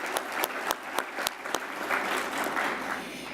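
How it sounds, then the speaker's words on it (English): An audience at a healthcare conference applauds the sponsors, a steady wash of many hands clapping with a few louder nearby claps standing out, sustained throughout. "big round of applause for the sponsors."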